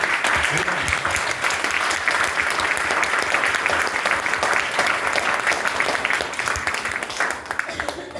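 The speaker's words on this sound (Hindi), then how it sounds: "ये तालियां उनके लिए" Dense, sustained applause from a large indoor audience, loud and continuous throughout with many overlapping claps and no break.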